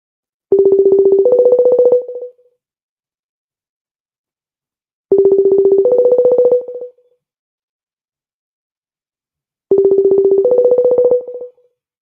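Telephone dialing tones play in three separate bursts roughly five seconds apart, each a pair of steady electronic pitches stepping up in tone, clean and alone against silence.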